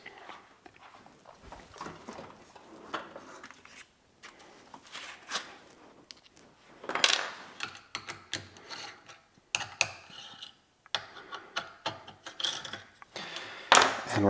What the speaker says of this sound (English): So we're going to loosen up these bolts.